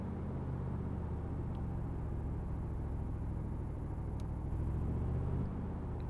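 A car with a 318 engine in the BeamNG.drive driving game holds a steady, low engine rumble and whir throughout, even and fairly quiet, with no voices.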